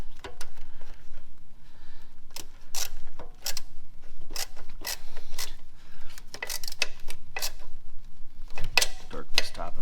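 Bolts on a Trackchair AXIS track and motor assembly are tightened with a torque wrench, producing a close series of sharp metallic clicks and ratcheting bursts in irregular clusters, with faint handling noise between them.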